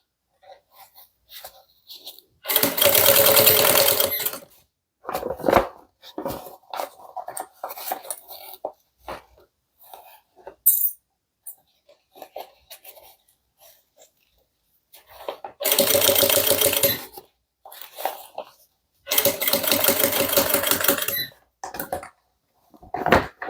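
A domestic sewing machine stitches around a handbag in three loud, sustained whirring bursts, separated by quieter clicks, fabric handling and brief bits of talk.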